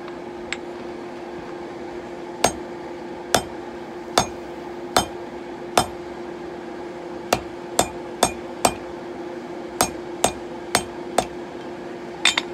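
A hammer strikes steel on a 66-pound anvil in a series of sharp, ringing blows at an irregular pace, each clang standing out clearly over a low steady hum.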